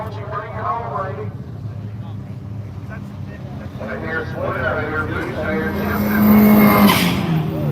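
A horsepower-heavy race car in a King of the Mountain shootout charges down a backstretch, its engine roar building and getting louder, with someone talking over it throughout.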